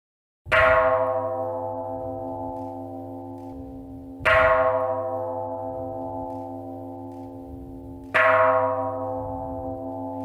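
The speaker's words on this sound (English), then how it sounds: "Ring the bell!" Ceremonial bell struck with a mallet, three separate resonant strikes about four seconds apart, each ringing out loud and clear and decaying slowly with long sustained tones, with no talking.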